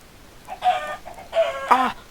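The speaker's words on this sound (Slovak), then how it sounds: "Počujem sliepačky." Chickens clucking in Minecraft, three short bursts of blocky game clucks in a row, fairly close and clear with no talk over them.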